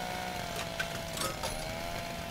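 A chainsaw in the video game Little Inferno drones as a faint, steady buzz, with a few brief louder bursts over two seconds and no talking.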